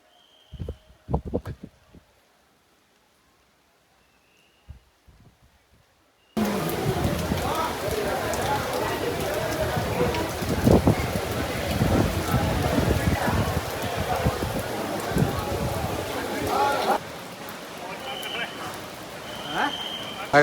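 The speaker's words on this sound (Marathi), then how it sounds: "सो इतका पाऊस चालू इकडे, कंटिन्यू पाऊस चालू आहे" Heavy monsoon rain pours down at Bhimashankar temple, a dense continuous hiss arriving abruptly after a quiet opening and continuing steadily with scattered louder patters.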